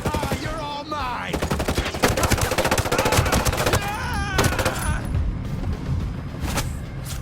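Rapid bursts of automatic gunfire crackle in Ghost Recon Breakpoint, dense overlapping volleys and single shots hammering loud and close, with pained groans and shouts mixed into the combat.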